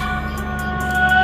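Ringtone on a Vivo mobile phone plays as a loud, steady electronic tone with sustained harmonic notes and soft rhythmic pulses, heard alone for about a second.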